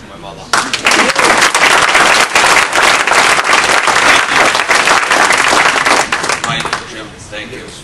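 Loud, dense audience applause for a mother at a family recovery and healing gathering, rising abruptly after a brief pause, holding steady for several seconds, then thinning into scattered claps with voices around it.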